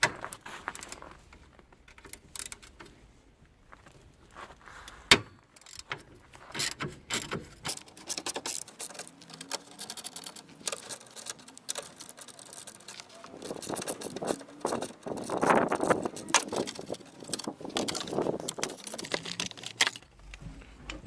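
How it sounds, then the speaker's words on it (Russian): A 10 mm socket wrench ratchets and clicks in bursts as it unscrews the battery mount nut on a Toyota Corolla, close by with metallic taps and rattles amid quieter pauses. "Воспользуемся торцевым ключом на 10."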